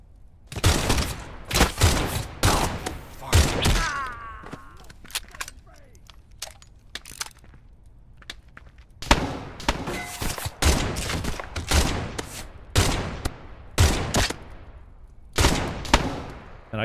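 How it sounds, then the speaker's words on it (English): Pistol shots in the video game Pioner, fired as sharp, loud, close cracks in quick bursts with short gaps, and a longer pause midway before the firing resumes. A voice is briefly heard between shots. "Let's try the pistol."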